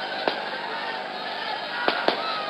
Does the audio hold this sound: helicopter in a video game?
no